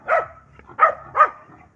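A dog in a rural Philippine yard barks three times in quick succession, sharp and fairly close, with short gaps between barks and no talk over it.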